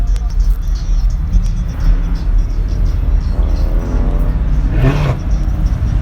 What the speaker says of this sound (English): It sound pretty good too. It's a hearse too.